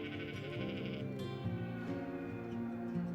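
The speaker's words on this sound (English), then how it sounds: ""Baa!" said the sheep when they saw the children." A sheep bleats in a few wavering, drawn-out calls, close and fairly quiet, with no other voices around.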